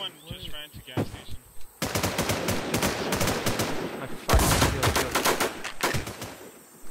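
Gunfire in the WarZ video game, with rapid automatic bursts and single shots cracking close and loud over several seconds, while players talk over voice chat.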